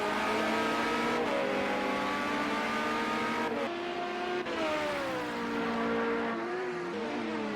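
LMP900 prototype race cars, with a BMW among them, roar around Mazda Raceway Laguna Seca in Project Cars 2 on PS4. The engines whine steadily, with pitch rising and dropping through gear changes and passes.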